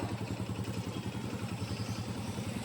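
Motorcycle engine idling after starting, a steady low rhythmic chugging that runs loud and close throughout, with no speech.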